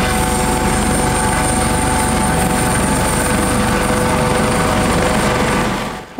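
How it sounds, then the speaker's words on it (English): Helicopter in flight on the short transfer from Hartland Point to Lundy, a loud, steady rotor and engine roar filling the whole recording close up, cutting off abruptly at the end. "today's helicopter transfer is just 20 minutes from Hartland Point to Lundy Village."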